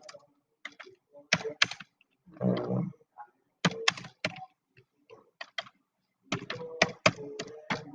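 Computer keyboard typing, loose bursts of key clicks and spacebar thunks at close range while a name is entered into HTML code, with a short rustling noise partway through and no talk.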